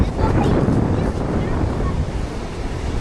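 Sea waves breaking on a beach at night with gusting wind buffeting the microphone, a loud rushing surf wash that surges early and then rolls on steadily.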